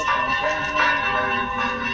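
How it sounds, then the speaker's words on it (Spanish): Church bells ringing with a sustained, humming resonance, tones overlapping and lingering at a fairly steady loudness. "para que pases el ruido de las campanas"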